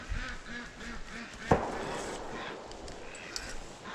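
A Muscovy duck near a pond gives a quick run of rhythmic, nasal quacks up close, followed by a single sharp knock and quieter low calls.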